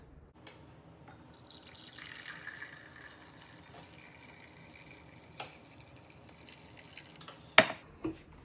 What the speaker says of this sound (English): Take your mug, pour it over.